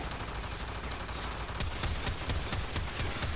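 The Astilla shotgun in the game Warframe fires a rapid series of sharp blasts, about eight or nine in a quick rhythm, loud against a busy background of gameplay noise.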